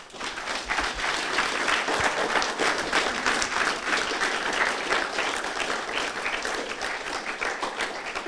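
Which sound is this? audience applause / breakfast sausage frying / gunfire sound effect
audience applause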